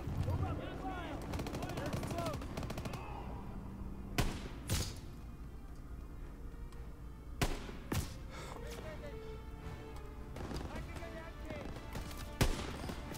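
Machine gun fire in the Call of Duty WW2 campaign, with short sharp bursts and single loud reports spaced several seconds apart over a continuous battle din, mixed fairly low.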